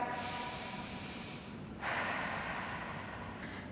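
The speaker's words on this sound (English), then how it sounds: "Just take a few breaths." A steady, close breath exhale and inhale during a Pilates workout with ankle weights and light weights, taken while rolling down onto a mat, with a brief louder rush midway and no talking.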